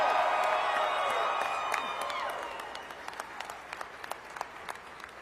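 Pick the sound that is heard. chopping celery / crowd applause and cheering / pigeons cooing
crowd applause and cheering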